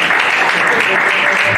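A French-speaking audience at a New Year's greetings presentation applauds a speaker with dense, steady clapping that fills the room, loud and continuous throughout with a faint voice under it.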